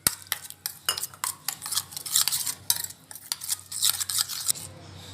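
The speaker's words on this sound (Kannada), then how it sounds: "ಹಾಗೆ ಎಲ್ಲ ಕ್ಲೀನಾಗಿ ಮಿಕ್ಸ್ ಮಾಡ್ಕೋಬೇಕು ಸ್ವಲ್ಪ ನೀರು ಹಾಕ್ಕೊಂಡು" A spoon briskly mixes khoda masala with a little water in a bowl, giving rapid repeated scrapes and taps against the sides, close and clear.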